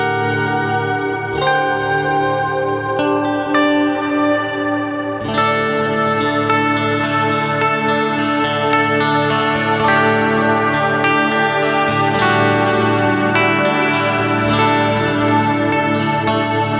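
Electric guitar played through a Line 6 DL4 MkII delay and looper pedal with modulation and reverb turned up, producing lush chorused, echoing chords and notes that ring and overlap continuously throughout.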